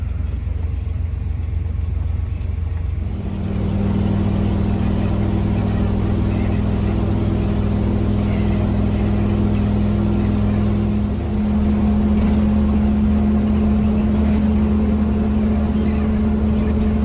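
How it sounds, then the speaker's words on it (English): A bus coasts downhill in low gear over a high mountain pass while the driver rides the brakes, a loud, steady engine drone and road rumble whose pitch shifts partway through. "I'm just riding the brakes, cruising down this hill"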